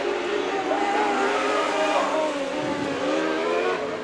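Dwarf cars racing at the Antioch Speedway Winter Classic feature, engines droning steadily and loud as the field runs near, with a shifting rising whine and no clear voices over it.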